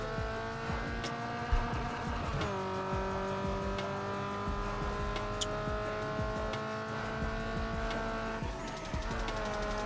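Car engine from Need for Speed: Underground 2 holding a steady drone through a racing game lap, with a pitch shift around mid-run and occasional faint tire noise, no voices.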